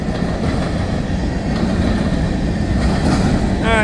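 A freight train of tank cars and hoppers rolls past on the FEC line near Baldwin, Florida, with a continuous loud rumble and wheel clatter, plus a brief squeal near the end.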